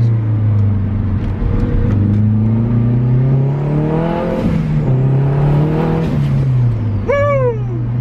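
A car engine holds a steady hum, then revs and rises in pitch as the car takes a quick corner, with engine tones sweeping up and down near the end and nobody talking.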